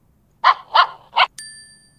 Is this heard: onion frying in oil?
no